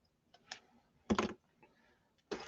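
Scissors snip through patterned paper to make a small flag banner for a scrapbook page: three sharp, crisp cuts, isolated and close, with quiet pauses between them.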